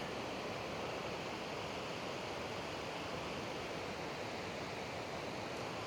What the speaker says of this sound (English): Raging river.